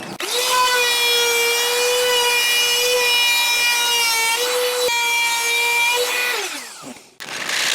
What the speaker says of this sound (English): go around the entire front face of this board with a round over bit